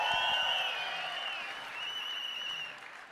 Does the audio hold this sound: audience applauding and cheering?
yes